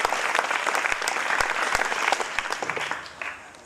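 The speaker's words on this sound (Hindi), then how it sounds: "तालियों से" An audience claps warmly to welcome a guest speaker at a girls' empowerment event, dense steady applause with a few sharp individual claps standing out, tapering off toward the end.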